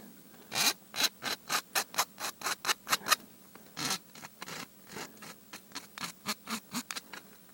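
Hand file rasping across an aluminium edge in quick repeated strokes, about twenty crisp back-and-forth scrapes in a steady rhythm with a short pause midway, close and clear with no talk.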